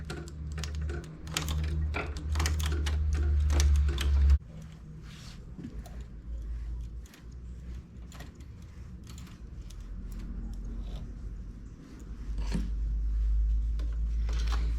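A domestic knitting machine's carriage slides across the needle bed to knit a row, a rattling mechanical clatter of rapid clicks with low rumbling, louder at first, then lighter clicking and another rumbling pass.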